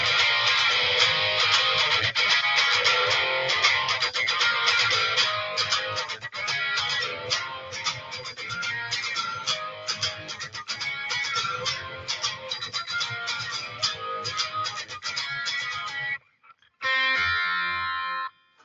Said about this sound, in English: pop the distortion on